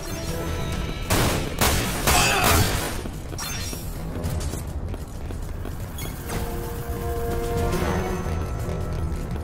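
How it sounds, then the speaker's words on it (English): Many enemies fire at once in the Dirge of Cerberus shooter game, a dense clatter of overlapping gunshots with heavier bursts early and later, continuous throughout. "there's like a shitload of dudes on the screen all shooting at once"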